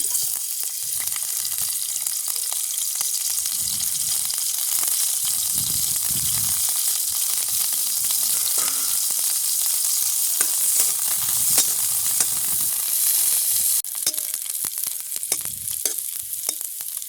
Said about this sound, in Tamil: எண்ணெய் நல்லா சூடாகிட்டு நாங்கள் வெட்டி வச்சுக்கிற இந்த பிரண்டை தண்டை போடுவோம்